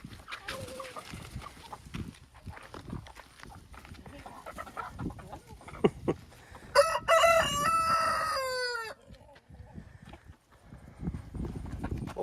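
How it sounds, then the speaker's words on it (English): Chickens peck at watermelon on a homestead with rapid, irregular tapping pecks throughout, and a rooster crows loudly partway through before the pecking resumes. "Oh, chickens love watermelon."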